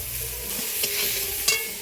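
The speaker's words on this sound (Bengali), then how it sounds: "ভালো করে টমেটো পেঁয়াজের সাথে নাড়িয়ে নেব" Onion and tomato with turmeric powder are stirred in a pan for a Bengali shak chorchori, making a steady, close scraping sizzle with two brief knocks of the utensil against the pan.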